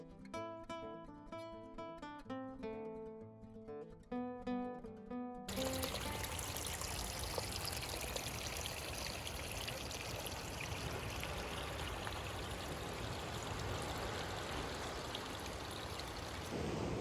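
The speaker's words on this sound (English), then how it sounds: "Just crossed over that little bit of water flowing down the hill." After a few seconds of music, a small stream trickling down a hillside on the NSW South Coast gives a steady, close, continuous rushing gurgle.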